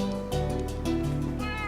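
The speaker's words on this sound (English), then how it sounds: "And I also bred the cats, that way I can get more cats for this farm." Cats in the video game Minecraft meow, several short mewing calls in quick succession, close and clear over a steady game background tone.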